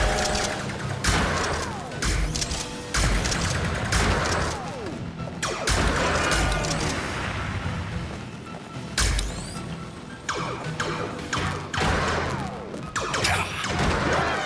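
Rapid gunfire and crashing impacts from the VR video game Bears In Space, loud repeated bursts of shots and booms filling the whole stretch without talk.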